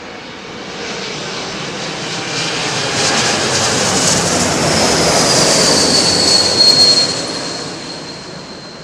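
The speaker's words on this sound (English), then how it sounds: "This 350 go around, 350 heavy landing that you're just about to see." An Airbus A350 makes a heavy landing at London Heathrow Airport, its loud, steady jet engine roar swelling toward the end with a high whine over broadband rumble, with no voices.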